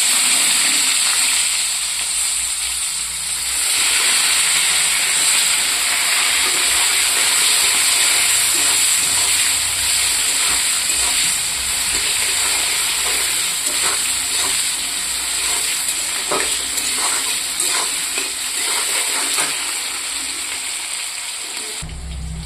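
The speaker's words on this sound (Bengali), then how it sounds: "এখানে আমি ওই তেলেই পেঁয়াজ দিয়ে দেবো" Onions sizzle in hot oil left in a pan after frying potatoes, a loud continuous hiss and crackle that holds steady from start to finish, with no talking.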